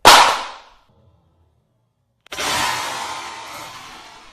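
An Apple iPad Pro hits the floor face down after a three-foot drop with one sharp, loud smack that decays quickly. After a short silence comes a steady rushing, windy noise.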